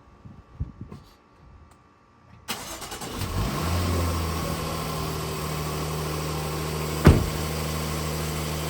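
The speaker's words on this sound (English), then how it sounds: "Go ahead and start the car up." A Jaguar F-PACE engine cranks and catches after a few quiet clicks, then settles into a steady, close idle with a brief knock partway through.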